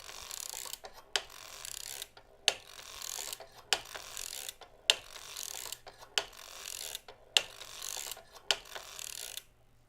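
A domestic knitting machine works rows of a glove: a carriage slides back and forth with rhythmic mechanical ratcheting and rasping, each pass ending in a sharp clack, about eight strokes in a steady cycle, close and alone.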